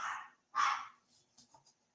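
A pet dog at home gives two close, sharp barks, the second louder, followed by a few softer, shorter yips as it settles.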